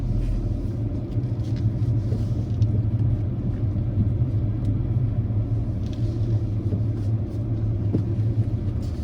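Slow road traffic in Senj, Croatia: a continuous low car rumble and engine drone, steady and fairly close, with no talk over it.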